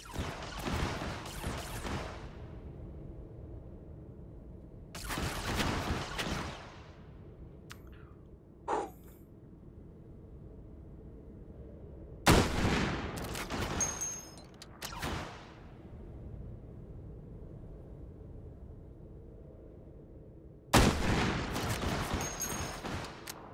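Sharp volleys of gunfire in the VR shooter Hot Dogs, Horseshoes & Hand Grenades come in four separate bursts with quiet gaps between them, loud and close, plus a lone crack partway through and no talking.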